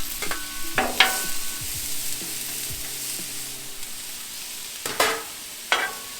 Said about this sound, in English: We're also going to throw in our veggies now, so they cook and saute a little bit